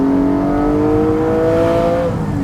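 Porsche 718 Cayman GT4 flat-six engine, fitted with an Akrapovič exhaust, revs up under acceleration, a loud and close rising growl that holds for a couple of seconds, then eases off at the end.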